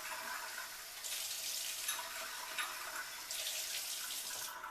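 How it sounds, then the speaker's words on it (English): Water running from a sink tap while copper pieces are rinsed of acid solution in a lab, a soft hissing splash that swells in two bursts, fairly faint and steady with no talking. "I'm going to walk over here and rinse them in the sink"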